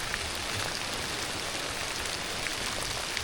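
Rain falls through the woods on an evening hike along the Cahaba River Riverwalk, a dense, even hiss of drops that stays steady throughout with no voices.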